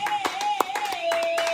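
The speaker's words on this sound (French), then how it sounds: "Acclamez Jésus, acclamez Jésus, acclamez Jésus." Church congregation clapping in a quick, regular rhythm while a voice speaks over the sharp, close hand claps throughout.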